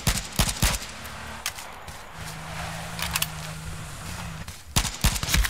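Gunshots in the game H1Z1 crack out in short bursts at the start and end, sharp and loud, with a low hum in between.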